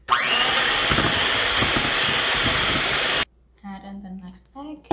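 An electric mixer beats eggs into carrot cake batter, running loud and steady with a whining motor for about three seconds before cutting off abruptly, followed by a voice speaking.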